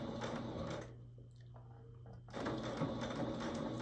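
A home sewing machine runs in reverse over handkerchief fabric, a close, quiet mechanical whir with a brief pause in the middle before the stitching resumes.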